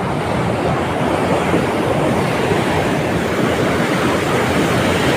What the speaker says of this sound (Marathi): हे बघा इकडं पाण्याचा दबाव किती वाढलेला आहे की झाडांच्या वरून पाणी चाललेलं आहे